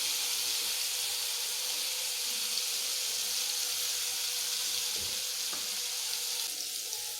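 Stuffed eggplant (bharli vangi) with its leftover masala sizzles in hot oil, giving a steady, even frying hiss with a few faint clinks of stirring and no talk.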